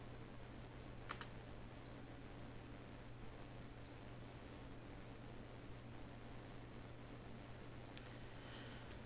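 Commands typed on a computer keyboard during Windows boot-error repair, with soft, faint key taps over a steady low hum and hiss.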